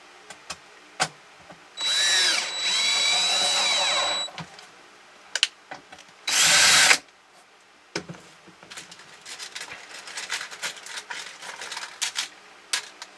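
Power screwdriver driving screws into a tabletop arcade cabinet, with two loud whirring bursts of a few seconds and a shorter one, separated and followed by clicks and handling knocks, no talk.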